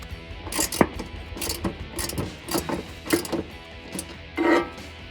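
A ratchet fitted with a 1/2 inch socket turning on a running board bracket of a Silverado 1500 pickup, with repeated bursts of rapid pawl clicking and metallic handling between strokes, close and without talk.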